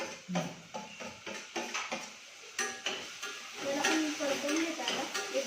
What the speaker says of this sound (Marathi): याला परतून घेतले कांद्याला थोडं आणि याच्यात आलं आलं लसूण जी पेस्ट केली होती ती टाकून देते आणि शिमला मिरची जी बारीक करून घेतली ती टाकते